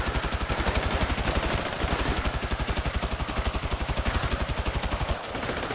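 Sustained automatic gunfire in GTA V Online during a raid on a military base, a rapid unbroken stream of loud shots that runs almost without pause, with a short break near the end before firing resumes.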